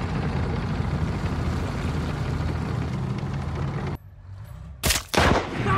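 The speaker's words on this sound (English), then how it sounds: "Sniper shot, boom." In the war film Fury, a steady roar of battle noise drops away abruptly, then two sharp, loud gunshot cracks ring out close together near the end.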